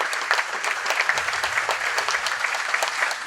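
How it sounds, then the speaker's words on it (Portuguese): A crowd at a formal Brazilian event with Michel Temer and Janaína Lima applauds steadily and loudly, a dense continuous wash of clapping throughout, with no talk over it. "Obrigado, Janaína, uma salva de palmas, muito obrigado."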